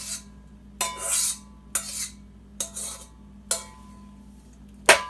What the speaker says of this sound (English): So I'm just going to scrape all our eggs that we put in there too.